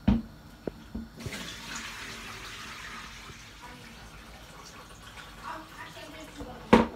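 Prawns are rinsed under a running kitchen tap, a steady soft gush of water that starts after a second and runs for several seconds, with a couple of sharp knocks near the start and end.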